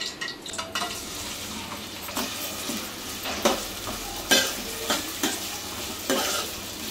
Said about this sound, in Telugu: 4 ఉల్లిపాయలు కోసుకున్నాను, ఇప్పుడు వేసుకుంటున్నా.